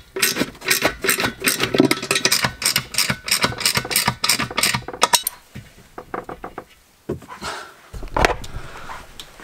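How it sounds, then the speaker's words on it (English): Ratchet tightening small 10 mm bolts that fix a fuel tank to a wooden boot floor in a VW R36 Passat, a rapid close clicking run for about five seconds, then sparser clicks and knocks. "now I'm just tightening up the little 10 mils that are going to hold it tight as to the wood"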